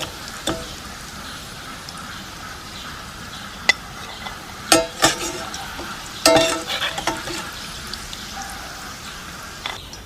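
Chicken pieces for Indo-Chinese dragon chicken deep-fry in sunflower oil, a soft continuous bubbling sizzle broken by several sharp metallic clinks and scrapes of a utensil, with no talking.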